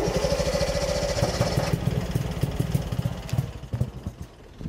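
A 1969 Subaru 360 sedan engine, fed by an added fuel pump, sputters and runs briefly, its uneven beat loud and close before fading toward stillness.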